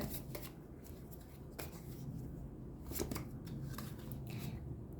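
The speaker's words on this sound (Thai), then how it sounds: "อาจารย์จะชัดไพ่อีกหนึ่งชุดไปเลย" Tarot cards riffle and snap as they are shuffled and drawn, faint crisp flicks and taps over a low background hum.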